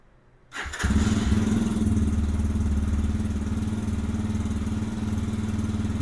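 A Lifan motorcycle engine cranks and catches at about half a second, then settles into a steady, loud, close idle with a throbbing low rumble that holds for several seconds.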